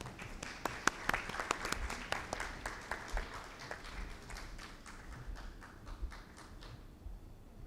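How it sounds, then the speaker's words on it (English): Scattered clapping from an audience at a panel discussion, moderately quiet with uneven individual claps that thin out toward the end. "A big round of applause, please."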